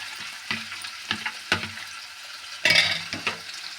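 Food sizzles and fries in a pan after tamarind juice is poured in, with short bursts of hissing and stirring scrapes at an irregular rhythm, close and fairly loud.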